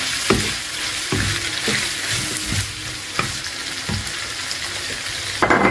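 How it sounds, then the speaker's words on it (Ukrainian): Carrot and pumpkin flesh with sliced sweet pepper frying in a pan over high heat, a continuous close sizzle broken by regular stirring scrapes about once a second. "Смажилась трошки морква з гарбузовою м'якоть. Додаємо перчик, який ми порізали солодкий. Ще пару хвилин підсмажуємо."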